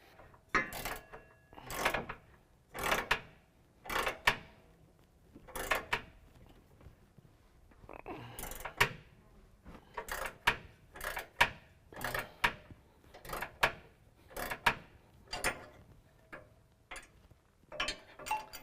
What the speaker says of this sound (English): we're going to use an 18mm wrench and ratcheting wrench to tighten down the 3 bolts from our frame to our bracket